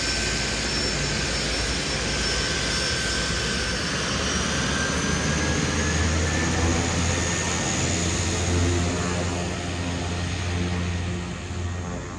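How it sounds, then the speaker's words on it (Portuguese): Airplane taking off near a fishing village in Portugal, a steady loud jet engine roar filling the whole stretch, with a rising whine and a gentle swell toward the end, no voices. "vou deixar vocês com essa bela imagem de mais um avião que está decolando"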